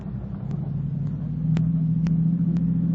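Radio drama effect of a patrol car engine, a steady low idling rumble that swells slightly louder midway, with faint clicks and knocks scattered over it.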